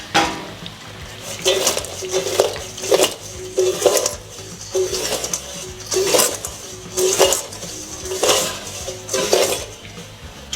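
Freshly fried, crispy fries are tossed with seasoning in a bowl. The rhythmic swishing and rattling tosses come in repeated loud bursts about once a second, close up.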